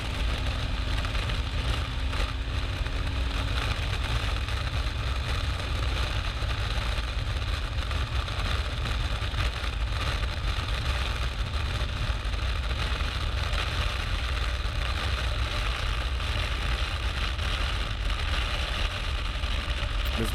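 A BMW GS 1250 Adventure motorcycle engine drones steadily while riding on dust and gravel roads, a continuous close rumble blended with wind buffeting and no pauses.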